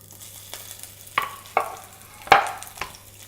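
A green chili dropped into hot olive oil with a puffed cinnamon stick, crackling and sizzling in a pan with several distinct popping bursts over a low steady hiss, close and without talk.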